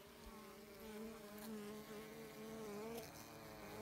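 Honeybees buzzing around a hive inside a tree, a soft steady drone with wavering pitch as individual bees fly near, faint and continuous outdoors without speech.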